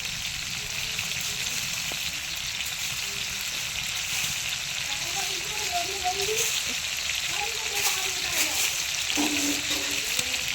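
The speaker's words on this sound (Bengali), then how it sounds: "তো এটা আমি ভালো করে ভেজে নেবো" Potatoes frying in a pan over a fire fed with leaves, giving a steady broadband sizzle with faint crackles and a few soft clinks throughout, no voices.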